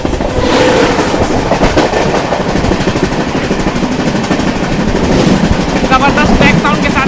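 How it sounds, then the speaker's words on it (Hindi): The Kerala Express, a long-distance train from New Delhi to Thiruvananthapuram Central, rushes past close by with loud, continuous wheel clatter and rhythmic rail clacking throughout. "ये निकली आपकी केरला एक्सप्रेस।"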